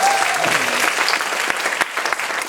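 A live audience applauds during a band's introduction of its drummer, steady clapping filling the space for a couple of seconds at a fairly loud level with no talk over it.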